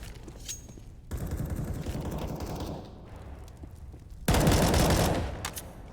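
Automatic rifle fire sprays through a wall on Mirage in a Counter-Strike match, two loud sustained bursts of rapid shots separated by a short lull, close and dense.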